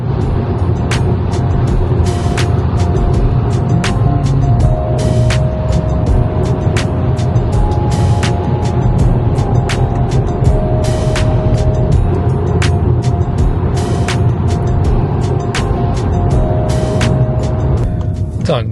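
A VW e-Golf electric car weaving between right and left lanes on a road, with a constant loud cabin rumble of tyres and wind, frequent brief clicks, and occasional faint steady tones.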